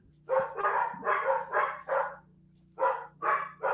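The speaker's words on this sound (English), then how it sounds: "they always bark at people coming down the stairs" A group of dogs barking in bursts, several close sharp barks, a short pause, then more barking, loud and near.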